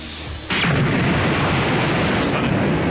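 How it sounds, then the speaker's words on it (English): A loud, sustained blast and rumbling roar from an explosion in Dragon Ball Z Budokai Tenkaichi 2, breaking in suddenly and filling the rest of the short stretch with dense, noisy energy. "Suddenly, an explosion rang out from the heart of the city."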